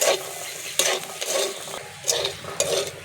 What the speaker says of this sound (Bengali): হালকা করে ভেজে নিয়েছি মশলাগুলো